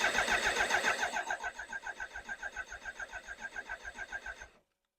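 A BMW K100 motorcycle engine being cranked over without catching, a steady whirring starter rhythm of about twenty even pulses that slows slightly and then cuts off abruptly.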